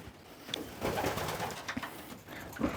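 A pied pigeon cooing nearby in a loft, soft low throaty coos repeated in a loose rhythm over light background rustling.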